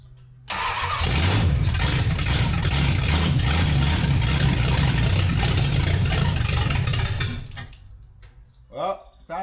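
A 1974 Dodge Dart Swinger with a small block V8 cranks and catches, then runs at a loud, rough, steady idle for several seconds before shutting off, with a voice speaking briefly afterward.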